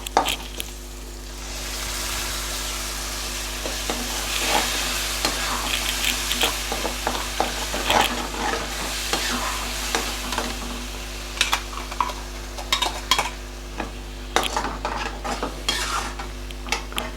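Ground tomato paste added to a pan and stirred while cooking macaroni pasta, a loud close sizzle under repeated scraping and clinking of a spoon against the pan, growing busier toward the end.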